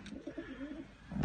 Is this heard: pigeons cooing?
yes